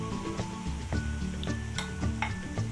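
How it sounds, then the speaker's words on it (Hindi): Crushed baati churma fries in hot ghee in a kadhai, giving a close, continuous sizzle broken by repeated metallic stirring scrapes and clinks, with no voices. "हमारा घी गर्म हो गया है, अब इसमें हम बाटी का चूरमा है वो डाल देंगे।"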